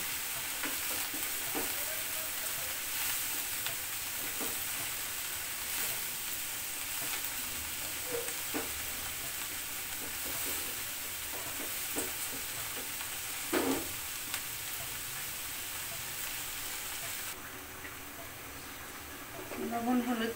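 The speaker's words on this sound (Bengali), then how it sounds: "লবণ হলুদ দিয়ে নেড়ে চেড়ে মিশিয়ে নিয়েছি" Salt and turmeric stirred in a frying pan, giving a steady soft sizzle with scraping stir strokes and a few sharper clicks, while a voice talks over the cooking.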